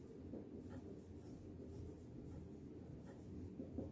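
Pen writing down solution numbers for a ratio and proportion math problem, a faint steady scratching that runs throughout with no talk.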